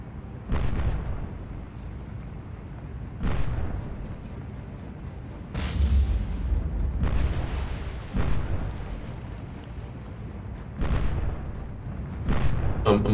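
Naval guns fire in a War on the Sea battle, heavy booms landing one after another at irregular intervals of a few seconds, each with a deep rumbling tail that fades before the next shot.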